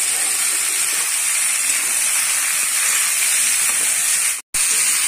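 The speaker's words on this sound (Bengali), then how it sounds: "এবারে দিয়ে দেব ক্যাপসিকাম।" Capsicum and soya chunks fry in a pan for a chilli soya dish, giving a steady, close sizzling hiss that runs unbroken apart from one brief cut near the end.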